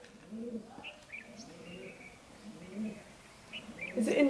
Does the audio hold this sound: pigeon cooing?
yes